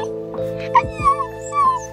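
A dog whimpers and yips in short, high, whiny bursts at close range, with a steady tonal hum underneath and no real bark.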